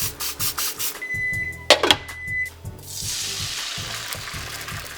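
Microwaved sweet potatoes crackle in a hot pan, a steady sizzle running under clatter and a sharp metallic scrape from stirring partway through, then settling into a broad, even hiss.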